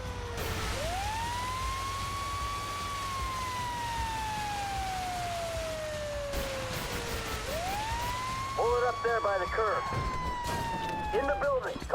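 A fire truck siren in the GTA video game wails in two long rising and falling sweeps, with short yelping bursts near the end over steady game background noise.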